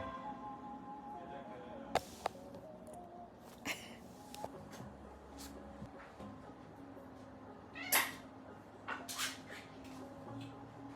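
Cats meow at dinner time in a home kitchen, several short, separate cries spread across the stretch. Dishes and cutlery clink alongside them against a quiet background.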